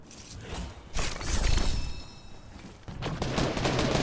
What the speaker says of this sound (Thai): Eliminate an opponent with an SMG